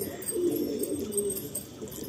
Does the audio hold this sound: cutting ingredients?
no